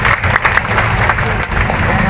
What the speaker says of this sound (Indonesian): Tepuk tangan untuk Pak Yandri.